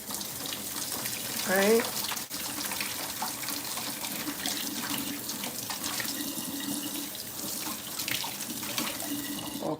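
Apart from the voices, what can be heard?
washing hands under a running water tap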